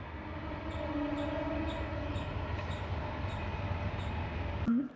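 A train runs on the railway track behind a hostel room, a steady close rumble with rhythmic wheel clicks on the rail joints, ending in a sudden thump.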